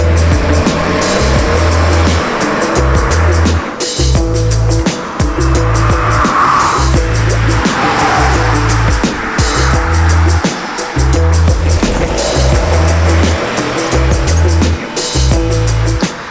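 A 2020 Chevrolet Onix Plus with a 1.0 turbo inline three-cylinder engine making 116 hp is driven hard, its loud, throbbing engine note rising and falling through gear changes over road and tire noise, with no talk.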